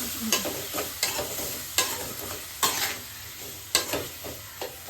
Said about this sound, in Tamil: கொஞ்சம் கல் உப்பு போட்டுக்கிற வதக்கி தக்காளி சீக்கிரம் வதவும்